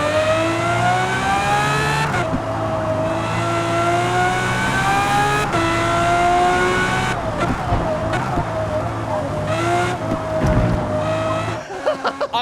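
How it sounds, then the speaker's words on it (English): A Pagani Huayra R race car engine in the video game Forza Motorsport revs hard and continuously, rising and falling through gear changes, with a brief clatter near the end. "go do a quick little sound test on the Pagani Huayra R"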